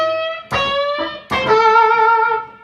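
Electric guitar blues lick, a few sharp picked attacks followed by sustained, bending notes ringing out, played loud and up close with no talking.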